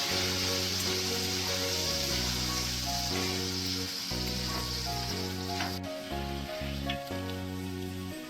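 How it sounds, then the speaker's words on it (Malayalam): Sliced jackfruit frying in hot coconut oil for chips; a dense, continuous bubbling sizzle close by, steady throughout with a light scrape or clink partway. "വെളിച്ചെണ്ണ നന്നായി ചൂടായ ശേഷം അരിഞ്ഞു വെച്ച ചക്ക ഇടുക"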